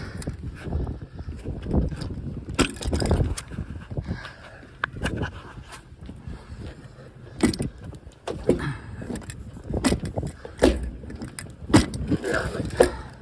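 Rivet gun setting rivets to fasten an anchor on a metal roof, giving repeated sharp clicks and snaps close by at irregular intervals, with handling noise between them.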